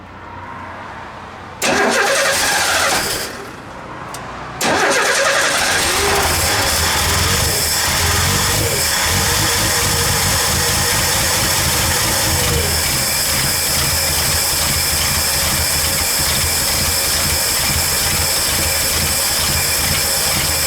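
1985 Ford F150 engine, set to 10 degrees initial timing, cranking briefly, then catching, dipping, and revving up before settling into a loud, steady, slightly rough idle that runs on close by.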